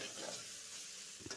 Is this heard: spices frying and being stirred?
yes